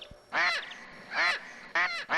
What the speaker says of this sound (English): Hey, who let the birds out?